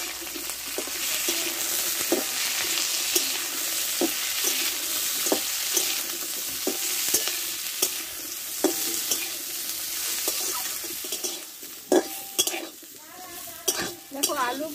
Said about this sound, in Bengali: এবার এতে বরবটিগুলো আমি দিয়ে দেবো, একসঙ্গে কষে নেব সবগুলো।